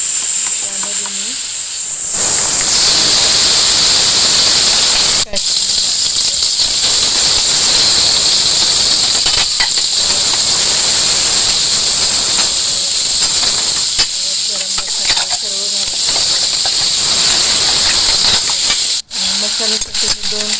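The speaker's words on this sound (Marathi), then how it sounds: "मसाल्यासाठी 2 कांदे, 2 टमाटे, आलं, लसूण सर्व पेस्ट करून मी फ्राय करायला टाकलेलं आहे" Onion, tomato, ginger and garlic paste fries in oil in a kadhai with a loud, steady sizzling hiss lasting throughout, while someone talks over it.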